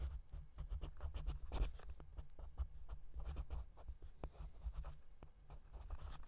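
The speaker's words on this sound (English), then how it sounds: "Now I start the Scratchboard by outlining in ink," A pen tip scratches steadily across 11 by 14 inch claybord scratchboard while outlining in ink, producing close, continuous dry strokes with a soft low hum underneath.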